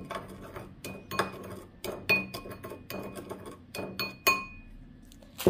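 A spoon clinks and scrapes rhythmically against a bowl while cinnamon is mixed in, with quick repeated strikes close up and no talking.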